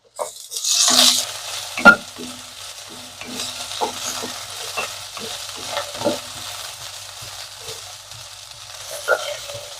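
Okra fries in oil in a pan while a utensil stirs it, giving a steady sizzle broken by repeated scraping and clinking strokes, close and fairly loud, with no talking.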